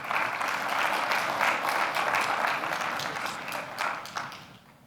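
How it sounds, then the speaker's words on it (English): Audience applause follows a conference presentation at an automotive technology event in Detroit, a steady, fairly distant wash of clapping that holds for several seconds and then tapers off near the end. "a round of applause,"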